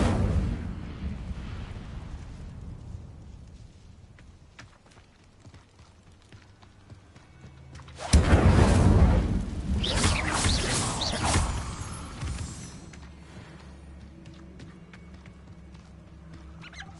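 An Incendio fire spell blast goes off in the video game Hogwarts Legacy as a loud whooshing, roaring burst over a rumbling game background, fading back to a low ambient bed.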